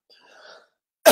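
A single loud, close cough bursts out after a faint, breathy murmur.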